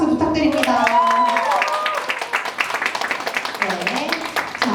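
An audience at a school graduation project presentation breaks into applause, a dense patter of clapping that swells in as a voice is still talking and carries on under further speech.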